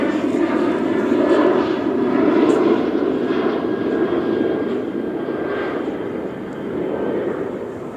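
A Southwest Airlines airplane passes overhead with a steady, broad engine roar that swells and eases slightly, continuous through the whole stretch outdoors.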